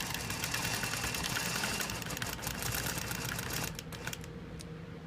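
A longarm quilting machine with a stitch regulator sews an arc through a quilt, a fast, dense, continuous mechanical stitching hum that eases off near the end, steady and close, with nobody talking.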